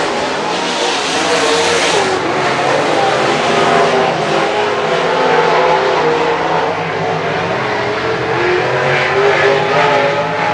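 Sprint cars roar around a race track in a loud, continuous wall of engine noise, with revving swells as the pack passes close by.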